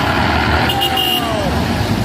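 Heavy truck convoy traffic on a winding Indonesian road, a loud continuous engine roar and rumble close by, with a brief whining tone partway through and people talking over the noise.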